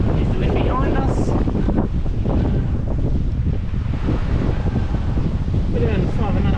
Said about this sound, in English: Here's the wind behind us.